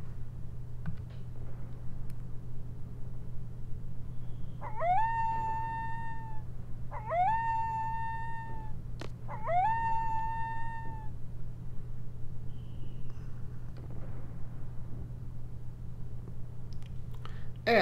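A dog in Final Fantasy VIII Remastered gives three drawn-out whining howls, evenly spaced and fairly close, each rising at the start, over a steady low hum.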